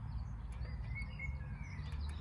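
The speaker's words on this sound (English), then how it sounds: "I think the birds are out in force today." Birds sing in a park: faint, thin chirps and short whistled calls drift over a steady low rumble of outdoor background noise.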